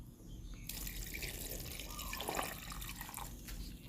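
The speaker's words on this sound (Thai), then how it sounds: "ใส่น้ำสาวข้าวลงไปนะคะ" Rice-washing water poured over bamboo shoots for quick sour pickling: a steady, close splashing pour that begins abruptly after a quiet half-second and runs unbroken to the end.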